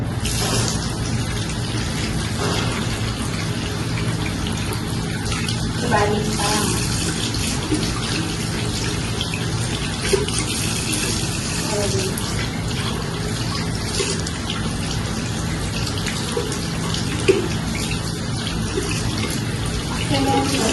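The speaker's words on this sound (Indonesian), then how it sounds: "terakhir basuhnya dengan air" Tap water runs steadily into a sink while hands are rinsed after handwashing, a continuous close splashing gush with small variations from the hands moving under the stream and no clear talk.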